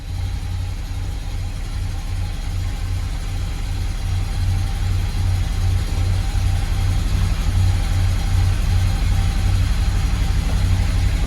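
A 1981 Oldsmobile Delta 88 engine runs loud and close with a steady, pulsing low rumble, holding an even idle without obvious revving.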